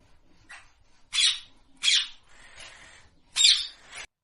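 A parrot gives four harsh, raspy squawks at irregular intervals, moderately faint over a light hiss, with one squawk trailing into scratchy chatter.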